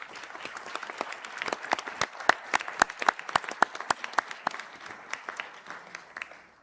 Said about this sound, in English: can we please have a round of applause for those graduates?